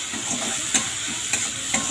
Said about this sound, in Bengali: সব মশলাগুলো কষিয়ে নেব